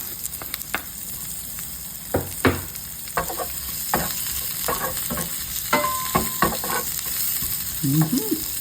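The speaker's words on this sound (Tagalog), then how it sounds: "Gisa-gisa lang. Natin yung sibuyas." Onions, garlic and ginger sizzle in hot oil in a pan while a utensil scrapes and taps against the metal in irregular strokes, with a steady frying hiss underneath.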